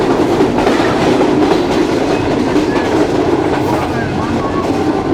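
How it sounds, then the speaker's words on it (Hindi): A train passes at high speed on a Pakistani line near Toba Tek Singh, a loud, close, continuous roar with rhythmic clickety-clack of wheels over rail joints for the whole stretch. "भाई बेहतरीन स्पीड में ट्रेन ने क्रॉस किया है।"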